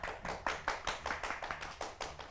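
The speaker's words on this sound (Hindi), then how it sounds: "ऊंची आवाज में तालियां बजाएं" Audience clapping in a steady rhythm, about a dozen sharp claps in unison, close and fairly loud.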